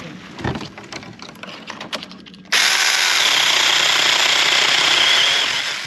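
A Saker 18v cordless hand chainsaw cuts through an apple tree branch, starting after a few soft handling knocks with a sudden loud, steady high-pitched whine held close for several seconds.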